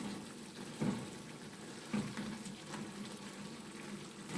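Ghanaian okro stew with pepper stirred in a pot, a soft bubbling simmer with a few dull thumps and scrapes of the spoon, fairly quiet and close.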